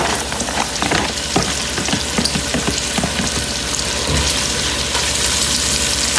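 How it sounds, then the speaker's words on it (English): Onion sizzles loudly in a pot over high heat, a steady dense frying hiss with scattered crackles and a few stirring knocks. "On a high heat. I'm going to put the onion in here."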